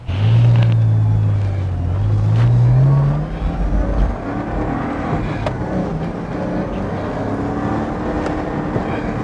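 A Porsche Boxster drives on a country road, its engine revving and rising in pitch before settling into a steady cruising drone with road and wind noise.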